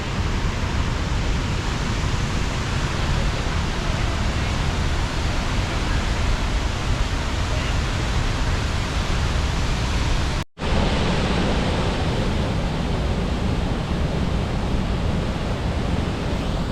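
Havasu Falls pours in a steady, dense roar of rushing water, loud and unbroken apart from one split-second dropout, with no one speaking.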